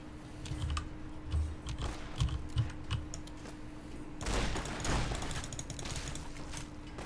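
Gunfire in the video game Fallout: New Vegas lands as a sudden loud broadband crack partway through, amid scattered light clicking and faint game ambience, with no talking.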